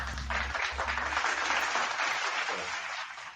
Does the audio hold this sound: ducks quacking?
no